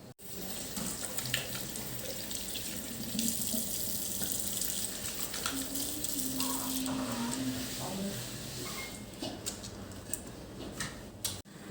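Tap water runs steadily into a sink as hands are washed, a continuous splashing rush with small ticks and clinks, before preparing equipment for a nasogastric tube insertion.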